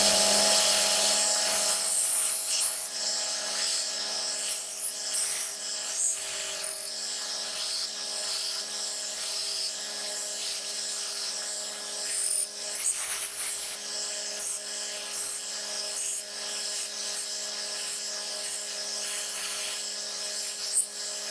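An old, beat-up power sander smooths the edges of a lightsaber mount, giving a steady, loud high-pitched whirring drone that runs the whole time with small scraping variations and no talk.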